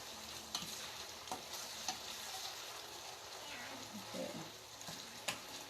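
Ground beef and okra sizzle in a hot pan while a utensil stirs them, giving a steady frying hiss broken by soft scraping and clicking strokes, close but fairly quiet.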